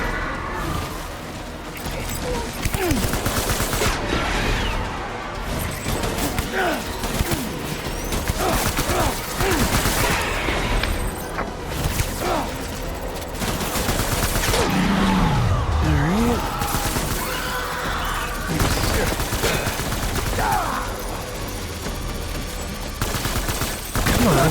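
Sustained gunfire in the video game Death Stranding, with rapid volleys and impacts mixed with mechanical clatter and the rumble of a vehicle, steady and loud throughout with voices in the background.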